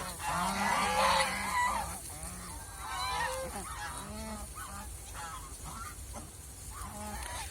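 Crested domestic ducks call close by, with loud, harsh honking quacks repeated in quick bursts, then settling into scattered calls.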